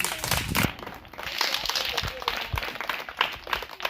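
A church congregation applauds, a dense patter of many hands clapping together across the room, steady and moderately loud with some voices mixed in.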